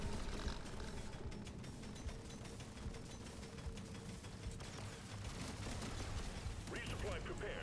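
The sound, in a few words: weapon fire in Deep Rock Galactic: Survivor video game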